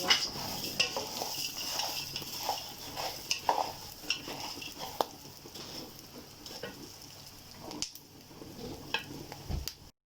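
Green coriander and dry ginger going into hot oil while being stirred for a shahi degi garam masala, giving a soft sizzle with repeated close scrapes and clinks of a utensil against the pan and no talking.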